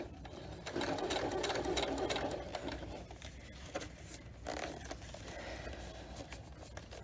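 A sewing machine runs steadily, top stitching a vinyl zipper pouch, its rapid needle chatter close and continuous with a brief slowdown midway before carrying on.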